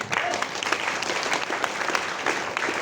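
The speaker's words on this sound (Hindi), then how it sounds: "तालियां बजा दें" An audience packed into a hall claps steadily throughout, a dense, even patter of many hands close and loud with no break and no voices over it.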